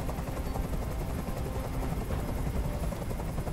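A steady, loud helicopter rotor drone with dense rumbling fills the scene in the video game Detroit: Become Human, continuous and unbroken throughout.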